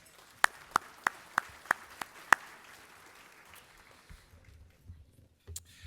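A few sharp claps spaced evenly, then sparse scattered clapping fading into quiet room noise; a small, thin round of applause.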